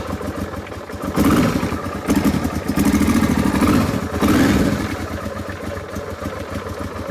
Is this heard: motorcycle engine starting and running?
yes